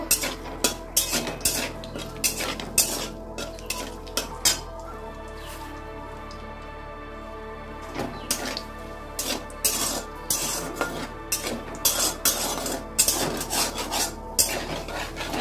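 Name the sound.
frying dry chili and bay leaf tempering, stirring in pan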